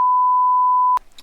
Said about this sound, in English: So that beep you heard before was what was actually in the content of the Mystery can.